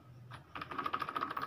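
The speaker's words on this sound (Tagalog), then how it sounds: "Ayun pa atang ma-detect ng external keyboard ko, ha." Rapid typing on an external keyboard connected to a Lenovo IdeaPad laptop, close and quiet clicks in a quickening run of keystrokes after a brief pause, with no talk.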